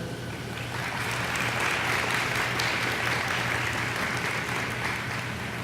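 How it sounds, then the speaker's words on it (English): Graduation crowd applauding a school symphony orchestra, a steady wash of clapping from a large audience, sustained and even throughout with a low hum beneath. "One more round of applause to our Rancho Solano Preparatory School Symphony Orchestra."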